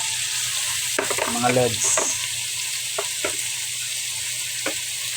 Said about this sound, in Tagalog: Yung ubod niya, igigisa natin sa pinakamasarap na luto